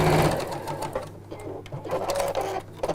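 A sewing machine stitching down the sides of 2.5-inch fabric strips, a close, steady mechanical whirring chatter running throughout with slight shifts in pace.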